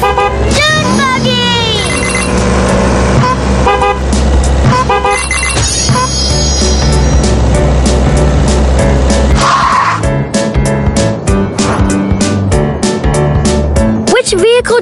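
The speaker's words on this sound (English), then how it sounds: "Dune buggy!" A cartoon dune buggy drives along a track, with engine whine, squealing tires and bright honks layered over a busy music score, loud and close throughout as characters talk over it.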